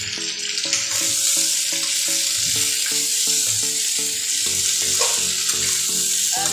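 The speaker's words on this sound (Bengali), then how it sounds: "সবগুলো কুমড়ো বা মিষ্টি লাউ সব দিক থেকে ভাজা হচ্ছে কিনা" Pumpkin or ash gourd pieces fry in a pan with a loud, continuous sizzle and crackle, heard close up as they are stirred, with no one talking.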